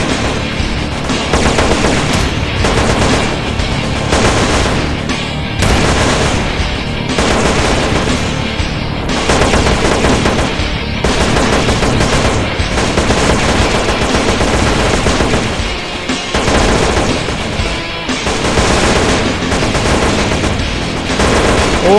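Dense, nonstop gunfire from GTA San Andreas during an attack on Grove Street, with rapid machine-gun bursts and overlapping shots filling the whole stretch at steady high volume and no break.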